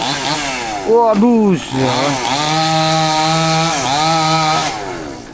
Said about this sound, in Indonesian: Ini pohon-pohonnya tumbangi dulu pakai gergaji mesin ya